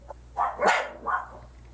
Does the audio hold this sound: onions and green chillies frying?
no